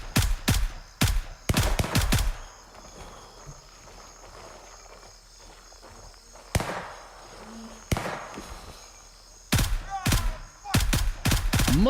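Bursts of gunfire from a first-person video game shooter, rapid volleys of sharp cracks in several clusters separated by quieter gaps, loud and close.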